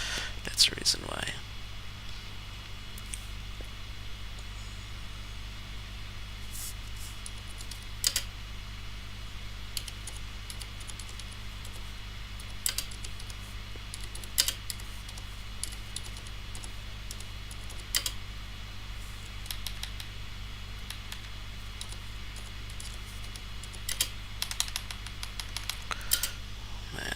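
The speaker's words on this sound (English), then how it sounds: "talking and typing at the same time is also pretty hard" Fingers typing on a computer keyboard during a live stream, sparse clicking keystrokes and occasional short bursts over a constant low fan-like hum.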